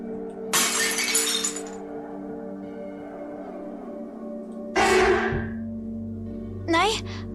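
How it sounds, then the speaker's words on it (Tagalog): A drinking glass is dropped and shatters in a bright, sharp burst, followed later by further crashes and tinkling fragments, heard over quiet background music in a dramatized horror story. "Biglang nahulog ang baso na kanyang hawak-hawak."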